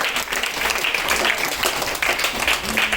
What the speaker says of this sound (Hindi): एक बार जोरदार ताली मार के स्वागत करेंगे।